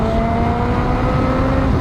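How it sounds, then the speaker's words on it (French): A motorcycle engine picked up by a microphone kept in the rider's pocket, a loud steady droning rumble with a muffled, boomy low end and a constant whine across the whole short stretch. "Pour que vous ayez quand même le son de la moto"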